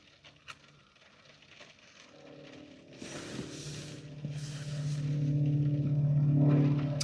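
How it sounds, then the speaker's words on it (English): A Diamond Twin Star twin-engine light aircraft with diesel engines flies circuits overhead, its steady droning hum swelling gradually louder as it draws nearer, with no talk over it. "There's a Diamond Twin Star doing circuits. It's got diesel engines."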